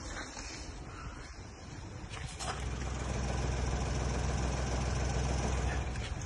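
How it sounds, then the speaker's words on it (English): A parked car's engine idles as a steady low hum that grows louder and fuller partway through, continuous and close with outdoor background noise. "This car has been idling here for 2 hours."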